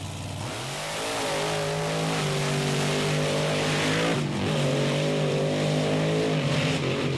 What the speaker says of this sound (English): maybe that tall gear of Gary Porter as he takes the Carolina Crusher into the next round with the victory.